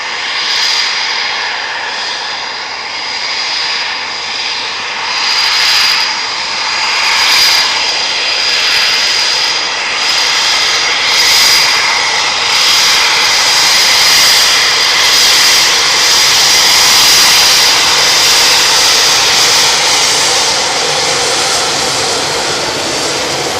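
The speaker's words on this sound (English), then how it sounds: "they're going to use reheat or afterburner on the takeoff" Eurofighter Typhoon jets taking off at RAF Coningsby produce a loud, sustained jet roar that swells and holds for over twenty seconds, with a hissing, rushing texture and no voices.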